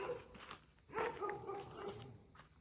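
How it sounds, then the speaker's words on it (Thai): A dog barks a few times in short, close, fairly faint yips and woofs, with a light shuffle between them. "หมาก็เห่าจังวะ เห่าอะไรก็ไม่รู้งงมาก"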